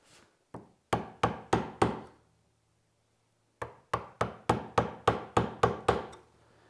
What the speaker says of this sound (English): And then tap my way about halfway through the thickness of the arm.